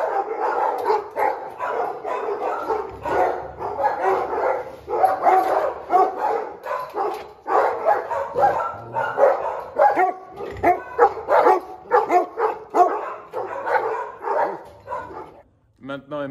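Excited Malinois dogs bark and yelp in repeated bursts nearby while someone talks over them almost continuously.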